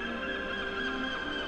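Geese honk continuously in an animated fable as the birds fly away, a dense, steady chorus of nasal calls with no talk over it.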